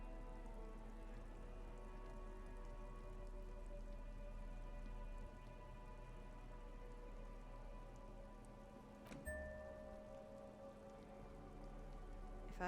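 Rain ambience from the video game Disco Elysium, a soft, continuous patter of rain on surfaces with a low steady hum underneath, quiet and unbroken.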